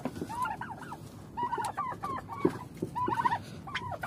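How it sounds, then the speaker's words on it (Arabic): Turkeys gobbling with chickens clucking in a coop, repeated close calls in irregular bursts over a steady barnyard murmur, with no talk. "الرومي والفراخ اهي، دي اصلا الفراخ بتتكتك."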